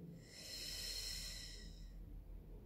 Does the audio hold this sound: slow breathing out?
yes